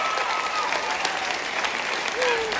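Audience applause at a hypnosis show, steady and dense across the whole stretch, with faint crowd murmur and a brief voice cutting through near the end.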